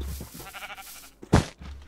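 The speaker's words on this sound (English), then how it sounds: "Get in, you dumb sheep." A sheep in a video game lets out one short, loud bleat close by after a stretch of quieter background game sound.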